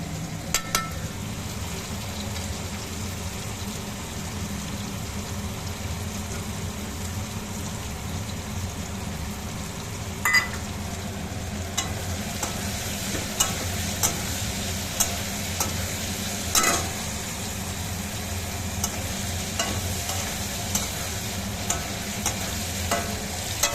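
Paneer, potato and cauliflower sabji frying in a pan of spices, a steady close sizzle with occasional sharp clinks and scrapes of stirring.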